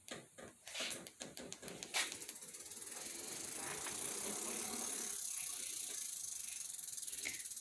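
A RadRunner e-bike motor starting on its own gives a few mechanical clicks and ratcheting knocks, then settles into a steady, faint whirring hum that runs to the end, heard close with no talk.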